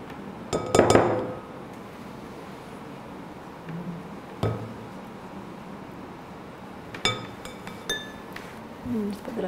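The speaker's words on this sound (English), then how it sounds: "Scrape this down." Utensils scrape and clink against a bowl while making banana pops, a loud burst of scraping early, then sharp isolated clinks and knocks spaced through a quiet kitchen background.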